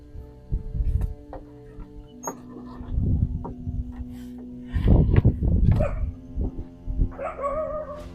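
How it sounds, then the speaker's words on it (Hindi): Dogs barking in a dark outdoor setting at night, scattered barks and yips in uneven clusters, some near and some farther off, over a steady low hum. "उधर कुत्ते"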